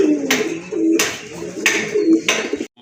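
A pair of Giribaz pigeons at a pigeon sale coo repeatedly and loudly up close, the throaty calls broken by sharp, noisy bursts roughly every second.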